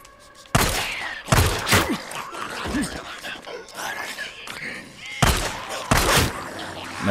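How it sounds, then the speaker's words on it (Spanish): Gunfire in the Days Gone video game: several loud, sharp shots in separate bursts, with groans from infected enemies and game ambience between them. "¿Cuántos disparos necesité?"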